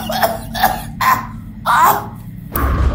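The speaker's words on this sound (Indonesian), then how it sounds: "Ibu batuk mas." A woman coughs in several harsh bursts, with short gaps between them and a rougher throat-clearing sound near the end, close and fairly loud against a quiet room.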